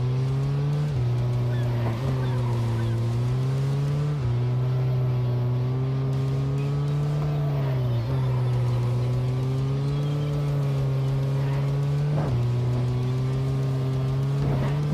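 A car constantly drifting in the VR racing game EXOcars on Meta Quest 3 holds a loud, steady engine drone that dips and rises with gear shifts and slides across the whole stretch.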